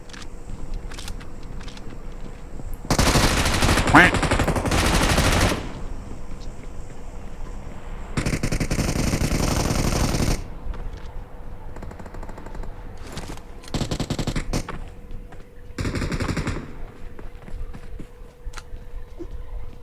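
Automatic gunfire in the battle royale game PUBG comes in several loud rapid bursts of a few seconds each, separated by quieter stretches of in-game ambience.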